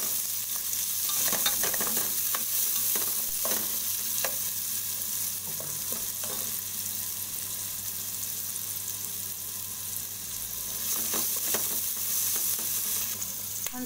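Onion fries in a pan for Cantonese-style noodles, a constant loud sizzle with scattered scraping and stirring clicks, and no talking.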